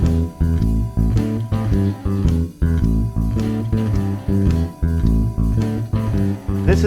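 Bass guitar playing a stereotypical blues bass line with every note doubled, a steady pulsing pattern of paired low notes stepping through the changes, loud and clear with short gaps between phrases.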